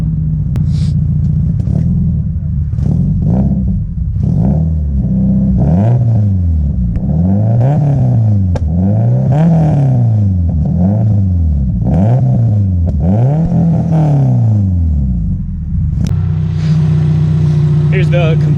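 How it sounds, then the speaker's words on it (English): A 500+ horsepower 2004 Subaru STI with a full Grady exhaust revs repeatedly, its engine climbing and falling in a rhythmic series of loud blips before settling back to a rumbling idle. "Ben, you want to give it a rev?"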